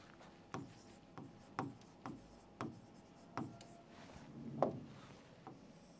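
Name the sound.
writing by hand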